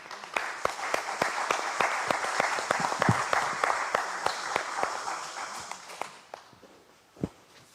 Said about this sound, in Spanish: Vamos a recibir con un cálido aplauso al ingeniero Carlos Somocurcio